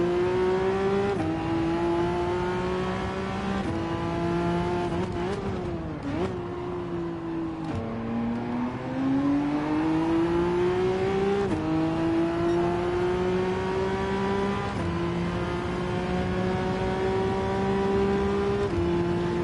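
A Ford GT race car engine revs hard and steadily in a racing video game, its pitch climbing and dropping with each gear change, loud and continuous throughout.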